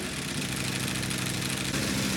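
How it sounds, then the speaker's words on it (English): A 2021 Ducati Panigale V4 Speciale R engine runs with a thick, dense rumble, steady and loud at close range for a couple of seconds. "It has a thick sound in the middle."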